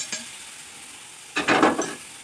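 Chopped tomato is added to pasta sauce paste in a hot pan. A short, close burst of sizzling and stirring breaks out after a quiet pause.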